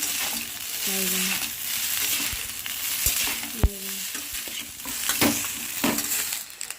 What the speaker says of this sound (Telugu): మిగతా ఫిఫ్టీ పర్సెంట్ ఆయిల్లో ఫ్రై అవుతా